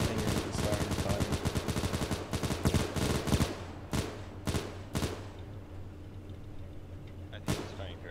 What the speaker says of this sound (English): Stug, are you actually aiming at anything or just starting to fire?